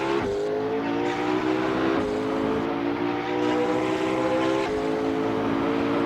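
McLaren 765LT in the Assetto Corsa racing game, its engine and exhaust roaring loud and close as the revs climb steadily through several upshifts, each gear change marked by a sharp break before the pitch rises again.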